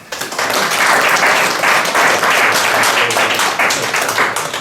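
Audience applause at a conference on breeding black-headed and Chinese greenfinches, a loud, dense burst of many hands clapping that swells quickly and holds steady before easing slightly at the end.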